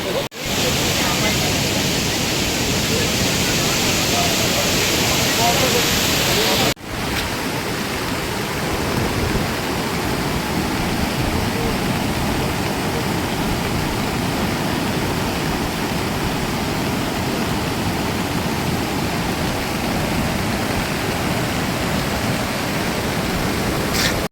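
The swollen Kalikhola river in flood at Nagrakata roars with rushing floodwater, a loud continuous broadband torrent heard close by, with a sudden cut partway through and no clear voices on top.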